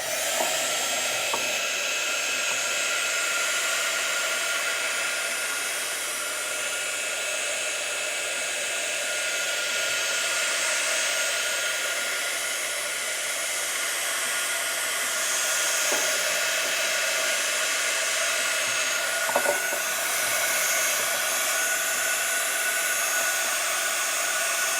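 A heat tool blows a steady, loud whirring hiss for the full stretch, drying layered ink panels in a red and orange art journal, with faint handling sounds now and then.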